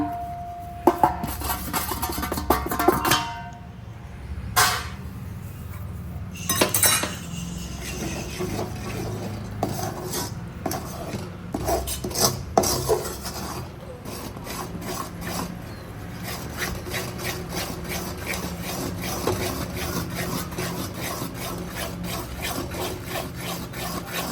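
Mysore pak batter is stirred with hot oil in a pan, giving a steady scraping and rubbing sound with a few louder clanks of the spoon against the pan.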